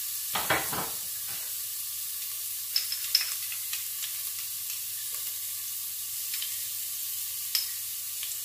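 Two small garlic cloves sizzling in olive oil in a home kitchen, a steady close hiss of frying with a brief louder burst at the start and faint crackles throughout.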